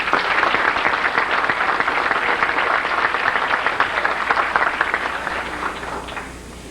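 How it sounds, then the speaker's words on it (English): An audience applauds retiring board members with dense, sustained clapping at a formal gathering, loud and continuous before tapering slightly at the end, with no talking over it. "Let's give the retiring board members a round of applause."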